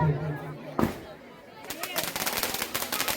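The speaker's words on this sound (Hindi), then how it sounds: "कम जगह में भी बहुत ही सुंदर आतिशबाजी नौजवान साथियों से होती है।" Fireworks crackle and burst in rapid, machine-gun-like volleys at a crowded Dussehra Ravan Dahan celebration in Araoud, loud and close, with a sharp bang early on and crowd chatter underneath.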